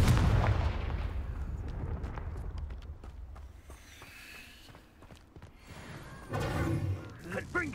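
Confringo fire-curse blasts in Hogwarts Legacy combat: a heavy booming impact at the start fading into scattered crackles and thuds, then another burst near the end, with a voice talking over the fight.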